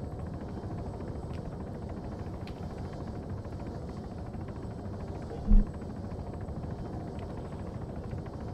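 Helicopter in the video game Arma 3, a continuous loud rotor drone and turbine whine filling the scene with one short thump partway through.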